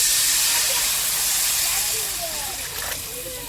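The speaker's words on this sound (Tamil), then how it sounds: "கரைச்சி வச்ச புளியை ஊற்றிக்கலாம்" A loud burst of steamy hiss as tamarind water hits a hot pan of fried onions, gradually settling into a softer bubbling sizzle.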